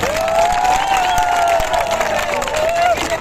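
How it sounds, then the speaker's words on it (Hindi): A large crowd at a Malegaon workers' protest sit-in claps and cheers loudly, dense sustained applause filling the whole stretch with scattered shouts on top. "इनके लिए सबने जोर से ताली बजाना चाहिए"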